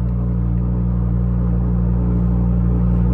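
A Lamborghini idles with a steady, deep, close engine rumble while its nose-lift function is engaged, a continuous low drone holding at even loudness throughout with no talk over it.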